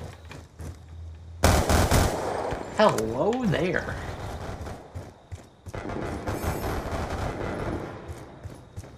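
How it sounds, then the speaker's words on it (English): Loud bursts of Call of Duty Black Ops 2 gunfire, several rapid shots, mixed with excited talking and a brief electronic whine. "There's a lot of gunfire out here!"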